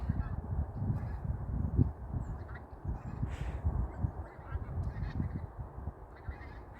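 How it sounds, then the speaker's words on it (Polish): Geese honk from a flock flying overhead, repeated faint calls drifting in and out over a rumbling outdoor background. "Zawsze bardzo fascynowało mnie to, jak te ptaki sobie lecą, jak się układają na niebie."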